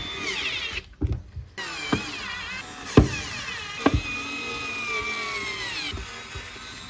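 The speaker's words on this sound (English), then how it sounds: "Putting in the screws." Screws being driven into a Pulsar motorcycle gearbox casing with a power driver, whining in short bursts with a few sharp clicks and taps, close up with no one speaking.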